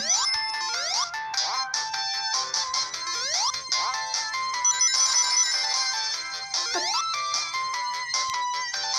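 A mobile phone ringtone playing a bright, busy electronic melody with rising swooping tones, continuous and fairly loud with no talk over it.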